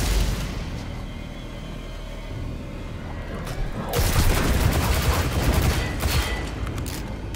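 Grenade blasts from a Hunter build in Destiny 2, loud booms and rumbling bursts that swell into a dense barrage of explosions and gunfire partway through.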